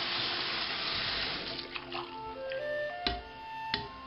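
Tap water runs steadily over a plastic Silent Spinner hamster wheel in a sink, a close splashing rush that thins out toward the end while a few light knocks and clicks sound as the wheel shifts.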